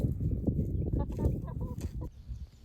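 Chickens cluck and murmur softly up close while eating, with small pecking sounds and no talking.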